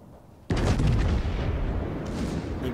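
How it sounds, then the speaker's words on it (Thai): The battleship Musashi in World of Warships fires a gun salvo: after a quiet start, one sudden heavy boom hits and rolls into a long, loud rumbling tail. "มูซาชิยิงเซลลี"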